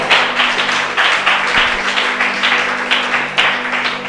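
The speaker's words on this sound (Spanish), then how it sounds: "Yo le daría un aplauso al Señor" A church congregation applauds together, steady close clapping in rhythmic waves that carries on for several seconds, with a low hum underneath.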